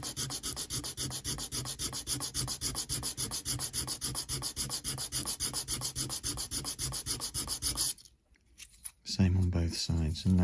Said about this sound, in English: with some nice medium grit sandpaper, sand away there until we've got a nice, fairly transition-free seam